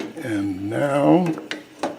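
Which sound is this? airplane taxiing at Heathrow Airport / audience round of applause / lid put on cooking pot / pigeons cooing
lid put on cooking pot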